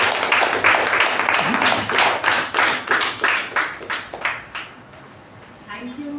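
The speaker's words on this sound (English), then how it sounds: "With a huge round of applause, let's give it up for the MC of the day" A room of Toastmasters club members gives the MC a warm round of applause, dense hand clapping that is loud at first, then thins into scattered claps and fades out over about six seconds.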